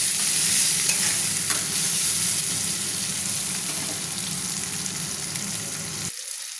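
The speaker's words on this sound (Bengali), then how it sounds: "দিয়ে আবারও ভালো করে নেড়ে নিচ্ছি" Chopped tomato is stirred into sizzling masala for a fish curry with cauliflower, a loud close hiss with repeated scraping stirs that cuts off abruptly near the end.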